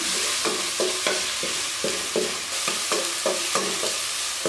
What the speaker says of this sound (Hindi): इसको इतना पका लेंगे कि टमाटर और जो प्याज अच्छे तरीके से हमारा गल जाए